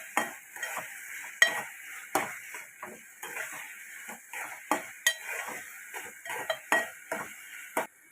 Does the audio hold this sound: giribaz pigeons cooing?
no